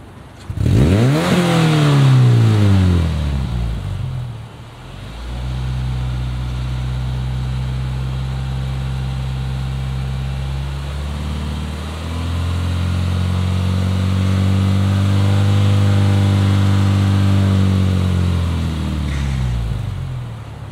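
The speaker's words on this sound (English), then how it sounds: "Let me rev it up for you." A 2008 Subaru Impreza sedan with a turbo engine and an AVO catback exhaust revs sharply at the start, then holds two long steady rising-and-falling revs, loud and close with no talking.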